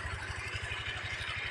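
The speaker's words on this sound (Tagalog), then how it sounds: "Ayan ito yung motor" A Lalamove delivery motorcycle idles close by, its engine giving a rapid, regular low chugging pulse under a steady hiss, with no talk over it.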